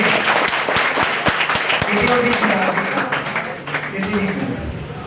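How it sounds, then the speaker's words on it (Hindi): A crowd claps in dense, sharp bursts, loud and close at first and then thinning and fading toward the end, with people talking over the applause. "तालियां भाई देर से तालियां बजाइए।"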